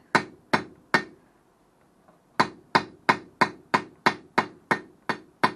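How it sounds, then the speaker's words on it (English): Sharp metallic hammer blows on 3/8-inch round steel stock while forging wall hooks ring out in a steady rhythm, three strikes, a short pause, then a fast run of about nine evenly spaced taps. "Now what I do is I just start rolling and hammering."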